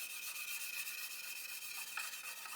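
A hard sanding stick rubs steadily along the side of an Airfix 1/72 Lancaster B.III Dambuster plastic fuselage, giving a continuous, close, soft abrasive scratching with a faint rhythmic back-and-forth, alone.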